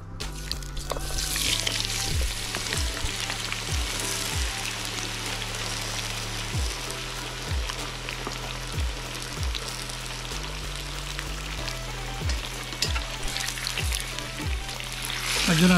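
Potatoes for French fries frying in oil in a kazan alongside vegetables, a steady close sizzle and crackle that continues throughout, with repeated low knocks from utensils at intervals.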